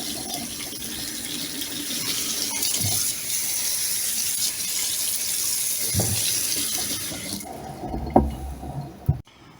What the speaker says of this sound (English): we're just going to soak the corned beef in some clean water for 15 or 20 minutes before we cook it